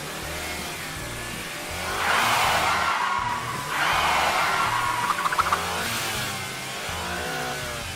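Small motor of a Lightning McQueen toy car whirs steadily, then revs up in two loud surges separated by a brief dip, before settling back to a lower hum.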